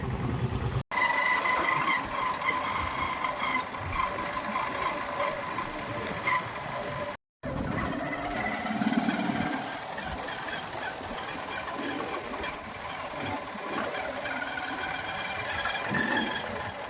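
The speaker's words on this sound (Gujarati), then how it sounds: "જો આપણે આ ગાડી લઈને જવાની છે દરિયાકાંઠે" A car drives toward the seashore near Navabandar village, with a steady engine and road rumble held throughout, broken by two brief dropouts, and no talking.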